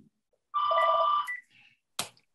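A telephone rings once with a bright, sustained electronic trill lasting under a second, fairly loud and isolated, followed by a softer tail and a short sharp click or knock.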